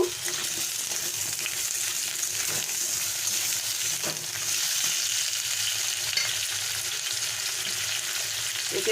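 Potato and eggplant pieces fry in oil in a kadai, a steady close crackling sizzle that stays even throughout with faint stirring, no talk.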